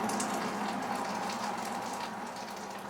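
Hot water poured into a pot of homemade chicken broth with onions, a steady close hiss and splash lasting a few seconds.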